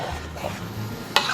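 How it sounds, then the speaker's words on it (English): Tomato-based sauce for Filipino sweet spaghetti simmers in a pan with a soft, continuous bubbling sizzle, nearby and quiet, ending in a brief sharper clink. "we just want to let this simmer away"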